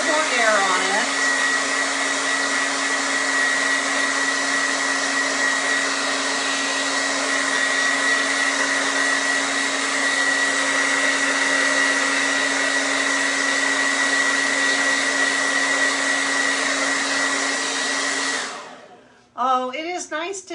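A handheld blower, sounding like a hair dryer, drives air over ink to dry it before heat setting, a loud steady whine that runs alone for about eighteen seconds before cutting off with brief handling noise.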